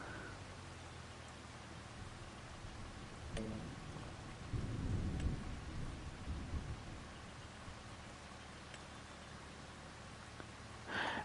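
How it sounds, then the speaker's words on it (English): Rain and thunder in the Farming Simulator 25 video game, a soft continuous rain hiss with a low rolling thunder rumble swelling midway, faint and without talk. "Hey, Miss Rain. Welcome."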